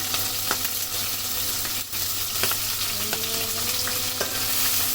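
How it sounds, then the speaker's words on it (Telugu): Green chillies and onions sizzle loudly in hot oil in a pan, a close, steady frying crackle with occasional stirring clicks and pops throughout. "మనం పచ్చిమిర్చి, ఉల్లిగడ్డలు అయితే ముందు వేసుకుందాము."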